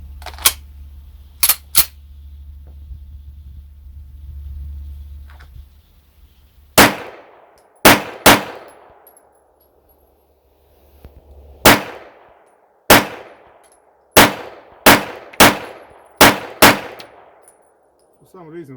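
Arsenal Strike One pistol fired about eleven times: loud, sharp cracks, each with a short ringing tail, in an irregular sequence of pairs and quick runs. A low rumble sits under the first few seconds.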